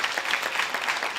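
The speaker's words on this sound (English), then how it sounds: "Quick round of applause for Jonathan." A short burst of applause, a crowd clapping quickly and steadily for about a second.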